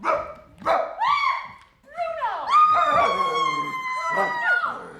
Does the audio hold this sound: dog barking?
yes